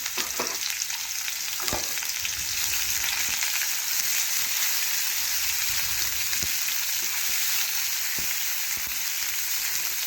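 Chopped onion fries in oil in a pan with a constant, bright sizzle, close and steady, broken by occasional soft knocks and scrapes of stirring.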